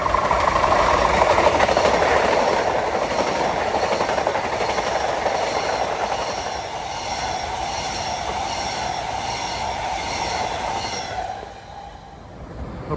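Long Island Rail Road M9 train cars moving past on track 1 at Forest Hills, a steady loud rumble of wheels with faint squeal and rhythmic clatter that fades slightly toward the end.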